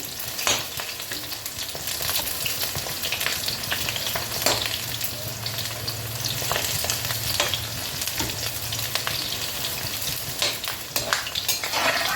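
Okra pieces frying in a pan of hot oil for besan bhindi, a steady close crackling sizzle with occasional stirring clatters running throughout, no talking.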